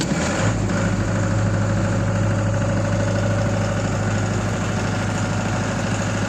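A Multipro SDG 30000 JL generator engine catches within the first half-second, then runs at a steady, loud idle with a constant low drone and vibration, no voices.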